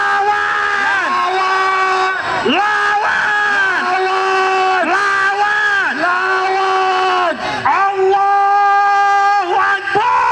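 A large crowd at a political rally shouts in unison, loud rhythmic chants rising and falling roughly every two seconds without pause.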